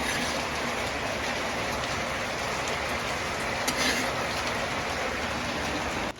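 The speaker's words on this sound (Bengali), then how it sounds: "আজকে 5-6 দিন ধরে প্রচুর পরিমাণ বৃষ্টি পড়তে আছে গ্রামে।" Heavy monsoon rain pours down in a village after days of downpour, a dense, loud, close hiss of drops drumming on surfaces that runs unbroken with no talk.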